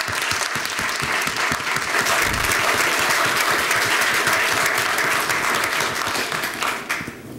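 Sustained applause from an audience honouring current and former military members at a Convention of States meeting, dense steady clapping for about seven seconds before fading at the end.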